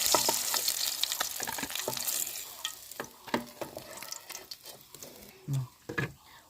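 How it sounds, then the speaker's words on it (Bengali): Rohu fish pieces rubbed with salt and turmeric sizzle in hot oil, a steady crackling fry with intermittent scraping and stirring clatters from the pan, close and moderately loud. "আমি মাছগুলোকে ভালোভাবে নাড়াচাড়া করে লাল লাল করে ভেজে তুলে নেব।"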